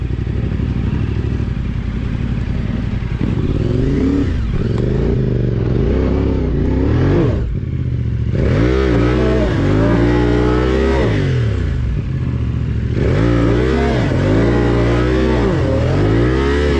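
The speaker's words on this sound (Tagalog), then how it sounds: "Feeling ko masyadong malakas yung motor ni Mau." Adventure motorcycle revving hard on a muddy, slippery dirt trail, repeated loud close throttle blips and rising engine surges with brief pauses between them.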